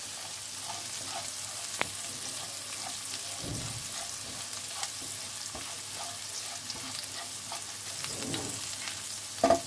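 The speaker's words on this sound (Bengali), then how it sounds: "এখানে হালকা একটু ফ্রাই হয়ে যায়।" Spice paste of nigella seeds, poppy seeds, sesame, peanuts, green chilli, coriander leaves and garlic frying lightly for katla fish curry, a soft steady sizzle with occasional faint stirring knocks.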